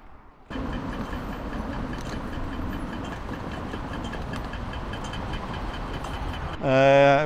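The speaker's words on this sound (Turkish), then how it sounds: "Önce 60'a bineceğim tramvaya." A Vienna tram, line 60, rumbles steadily as it runs, with a broad continuous mechanical noise, then a brief loud tonal squeal near the end.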